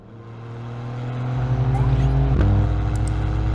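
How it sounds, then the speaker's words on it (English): Porsche 911 992 Turbo S engine building from a steady hum into a strong rising roar as the car accelerates hard, loud and continuous from the cabin, with a brief shift-like blip midway. "When I first sat behind the wheel of this Porsche 911 992 Turbo S and pressed the gas pedal"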